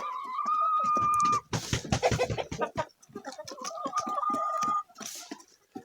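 Hens released at dawn cluck and chatter close by in a busy, uneven stream of short calls, with a few longer drawn-out notes and no talk.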